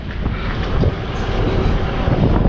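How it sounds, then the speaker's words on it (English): Wind gusting through New York City subway tunnels, a steady, loud rumbling roar buffeting the microphone throughout with no clear voices. "it's windy in these tunnels."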